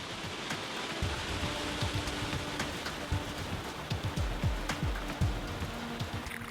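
A fast-flowing, ice-cold glacial river in the Tibetan mountains rushes steadily, a constant broad hiss with scattered splashes and gurgles, fairly close.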